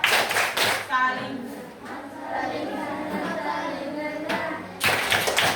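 Sixth-grade schoolchildren in a classroom perform a rhythmic clapping chant, with bursts of sharp group claps at the start and end framing a stretch of children's voices chanting together.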